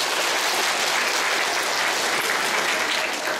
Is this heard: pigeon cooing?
no